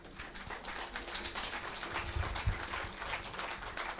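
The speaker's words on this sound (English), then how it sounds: "Please, a big applause, Excellency." Applause from the audience at a high-level intergenerational dialogue on African climate adaptation, welcoming the Ambassador of the Netherlands: a faint, steady, distant wash of clapping that lasts throughout.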